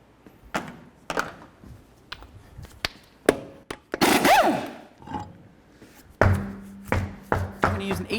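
Removing 19mm lug nuts from the front wheel of a 2002-2005 GMC Envoy: sharp metallic clanks and ratcheting bursts, irregular and close, with a rising whine from a power tool midway and quieter gaps between.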